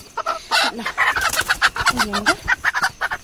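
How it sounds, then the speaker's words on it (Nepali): Chickens clucking and squawking close by in a rapid, irregular series of short calls, with a couple of drawn-out squawks in the middle. "ल साथीहरु कुखुरा चाहिँ यो छ"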